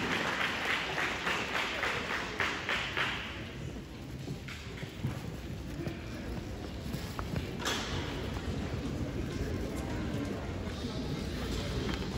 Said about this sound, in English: as this huge crowd is stands to clap for you